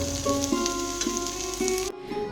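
Potatoes fry in a pan with a steady close sizzle, interrupted by a few sharp tonal clinks and beeps, then a brief drop before the frying noise returns.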